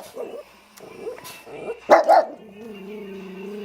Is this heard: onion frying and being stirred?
no